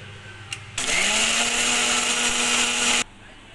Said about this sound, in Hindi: भिगोई हुई द्राक्ष और शक्कर को मिक्सी में पीस लेंगे।